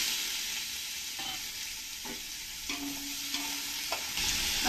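Chopped onion and whole spices with cumin fry in hot oil in a pan for vegetable pulao, giving a steady close sizzle with occasional stirring scrapes and no voices.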